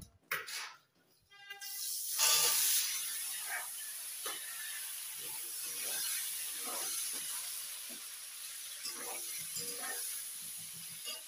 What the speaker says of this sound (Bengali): এখন এই তেলে বেগুন ভেজে নেব।